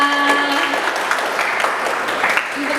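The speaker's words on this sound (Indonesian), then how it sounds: "Tepuk tangan dulu dong untuk Kak Kalista." An audience applauding a guest speaker at a student talk show, brief scattered clapping with a held tone and some voices underneath.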